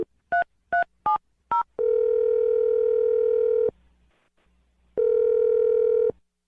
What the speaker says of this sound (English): I'm dialing the phone number now.